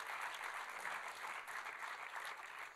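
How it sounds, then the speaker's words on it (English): Audience applause at the WSYA Gala 2011 opening, steady even clapping from a crowd, fairly distant and faint throughout. "Let's have applause."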